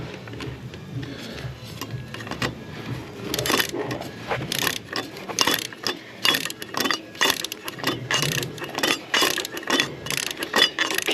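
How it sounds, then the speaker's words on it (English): A torque wrench ratcheting as bolts are tightened during a timing belt replacement on a 2015 Ford Kuga, close rapid metallic clicks in bursts that grow busier toward the end. "We get our torque wrench ready."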